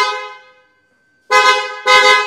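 A modified Toyota Hyryder's car horn: a sustained tone fading out, a brief pause, then two loud, close blasts in quick succession.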